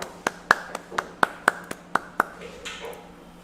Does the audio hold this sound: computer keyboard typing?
no